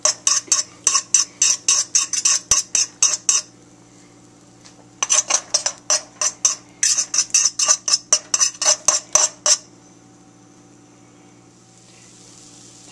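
A utensil scraping and tapping rhythmically against a pan while eggs are scrambled, steady clinks in quick bursts with short pauses, then the stirring stops and only a faint background hum remains.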